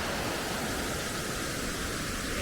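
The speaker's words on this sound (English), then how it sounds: "Here's a close-up of the waterfall" Close-up of a waterfall in Alaska near a glacier, a loud, steady broadband rush of falling water with no pauses.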